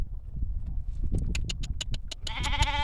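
Goats drinking water at a farm let out a quick series of short, close bleats in a regular rhythm, ending in a longer bleat over faint background shuffling.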